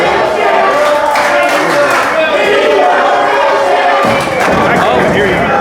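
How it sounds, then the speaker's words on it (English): A loud pro wrestling crowd at an indie wrestling show roars and cheers continuously, with thuds and a sharp slam near the end. Commentators talk over the noise. "Yeah, this crowd is loud."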